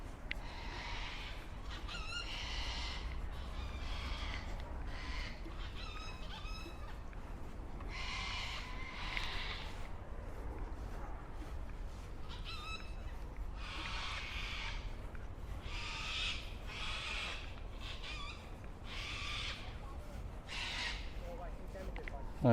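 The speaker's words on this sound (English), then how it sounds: "Certainly make a noise, the cockatoos." Cockatoos in a large tree at the Royal Botanic Garden in Sydney give repeated harsh, raucous screeches in irregular bursts, fairly loud over a low background hum.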